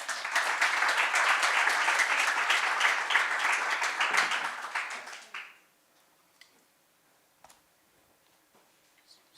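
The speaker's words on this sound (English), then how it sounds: "please, warm round of applause for Arno Vaglis." Conference audience applause, dense and sustained for about five seconds before tapering off quickly into a quiet room with a few scattered faint claps and small noises.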